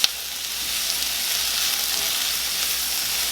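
Food fries in a pan with a continuous, even hiss and crackle that holds steady throughout, nearby and fairly loud.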